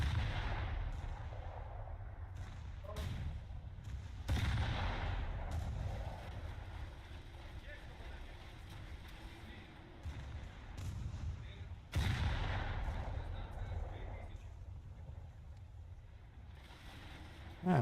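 Naval rocket fire in War Thunder, with loud bursts of launches and blasts at about 4 and 12 seconds over a steady rumble of ship engine and sea noise, and no talk.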